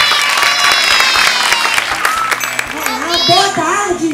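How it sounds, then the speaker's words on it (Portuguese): Children applaud a visitor named Vicky at a kids' activity session, a burst of clapping mixed with excited young voices and chatter that carries on as the noise settles. "Palmas pra Vicky, gente!"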